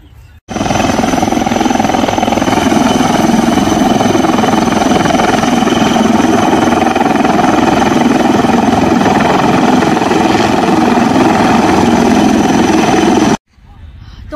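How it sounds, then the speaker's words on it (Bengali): An army helicopter near a barricaded area drones loudly and continuously with a steady engine and rotor roar, close by, for about thirteen seconds before cutting off. "হেলিকপ্টার এসছে এখানে"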